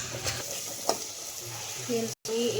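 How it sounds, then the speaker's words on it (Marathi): Ground onion-tomato masala paste for homemade misal fries in oil in a pan, with a soft steady sizzle, a few spoon scrapes, and a brief dropout near the end. "ते वाटण यामध्ये घालायचं आहे आणि व्यवस्थित परतून घ्यायचं आहे"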